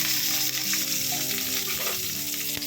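Bay leaf and cinnamon sticks sautéing in ghee for ghee rice, a dense continuous sizzle and crackle with occasional stirring scrapes and a sharp tap late on, close and fairly loud, no voices.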